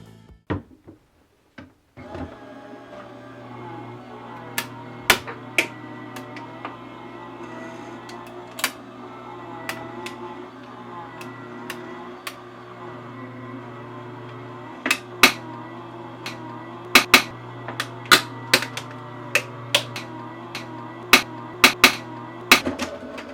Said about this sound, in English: Cover with white cardstock and run through the machine.